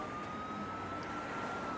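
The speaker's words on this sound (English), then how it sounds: "Sirens in the distance." A siren wails steadily in the distance, one thin, even tone held throughout over a faint background hum.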